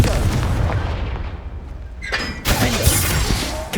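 Confringo blasting spell from Hogwarts Legacy: a rumbling blast, then a sharp crack and a second loud explosive burst near the end, close and forceful.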